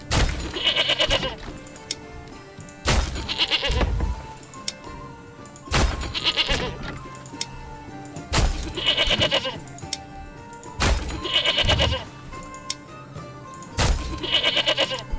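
Goats bleat over and over in the Manor Lords village game, loud bleats landing about every three seconds against a faint background of soft clicks and thunks.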